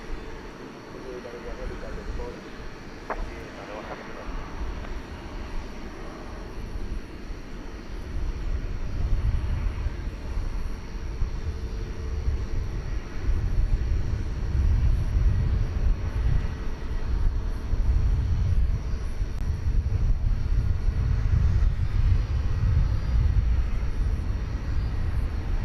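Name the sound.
Qatar Airways A350-1000 jet taxiing at DFW airport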